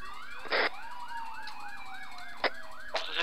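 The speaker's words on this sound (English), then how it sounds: "little change of the sirens" A police car siren in the video game Arma 3 wails in a fast repeating yelp pattern, loud and steady, with a few sharp clicks and bursts over it and no talk.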